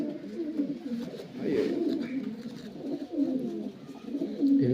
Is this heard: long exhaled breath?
no